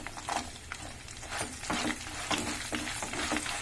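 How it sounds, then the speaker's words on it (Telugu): Tempering of spices and curry leaves frying in oil for a sun-dried tomato pickle, a sizzle punctuated by repeated stirring scrapes in an uneven rhythm, fairly quiet and close. "తాలింపు వేగిన తర్వాత ఇగో కొన్ని ఎల్లిపాయలండి"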